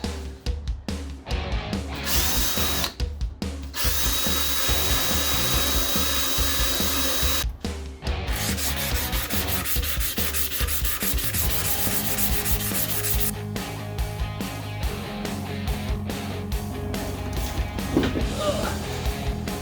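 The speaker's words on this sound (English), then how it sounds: "I think the sanding block might be the way to go" Continuous scratchy rubbing of a sanding block against a Kawasaki KZ440 motorcycle's metal fuel tank, with rhythmic strokes and a few short pauses, close and loud, with occasional faint talk.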